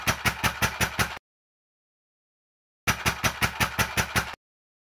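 Two short bursts of small 3D-printed compressed-air engines chugging in rapid, even pulses, separated by silence; the second burst, a version 2.5 engine, runs slightly faster.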